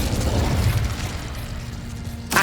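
Incendio fire spell cast in Hogwarts Legacy, heard as a rumbling, crackling burst of flame that fades over a couple of seconds and ends with a sharp new hit, with no talk.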